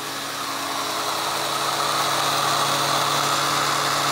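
An Oreck Orbiter floor machine spins for carpet encapsulation cleaning, giving a steady, close motor drone with a constant whirring hum that never lets up.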